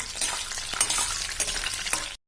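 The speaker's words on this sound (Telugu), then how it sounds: "ఇది కొంచెం వేగాక ఇలా పల్లీలు వేసుకుందాం. పల్లీని కొంచెం బ్రౌన్ కలర్ అయ్యే వరకు వేసుకోవాలి." Peanuts fry in hot oil in a pan for an ivy gourd and peanut dish, with a steady close sizzle and occasional stirring scrapes that cut off abruptly at the end.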